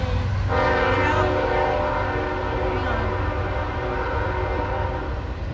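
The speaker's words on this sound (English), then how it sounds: "And there's that train again. Oh boy, here it comes." A train passes close by with its horn blaring, a loud sustained horn chord over the steady rumble of rail cars, heard alone without talk.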